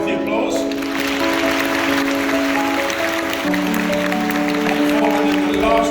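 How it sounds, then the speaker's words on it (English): A live audience claps and cheers together, a dense sustained wash of applause with crowd voices and steady tones running underneath for several seconds. "Let's have some good healthy applause"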